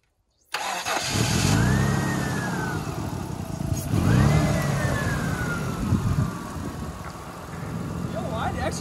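A Mitsubishi 4x4 engine with a loose fault cranks and catches after silence, then runs loud and steady with rising revs, close by, while people talk over it.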